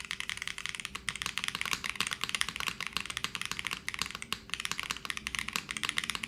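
Rapid, steady typing on a Float65 mechanical keyboard fitted with X-ray switches, an FR4 plate, Cherry stabilizers and GMK keycaps, with dense close clacking keystrokes heard on their own throughout.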